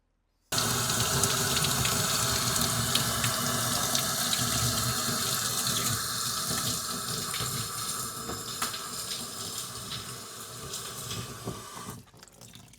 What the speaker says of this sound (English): we'll take it out of here, and we'll rinse it off and see what it looks like